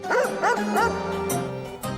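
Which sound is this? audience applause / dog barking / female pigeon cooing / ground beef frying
dog barking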